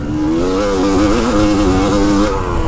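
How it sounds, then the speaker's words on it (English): A Yamaha YZ dirt bike fitted with a Lectron carburetor revs loudly and close by, its engine pitch rising and wavering in sustained pulls without pause. "that's a loud ass YZ"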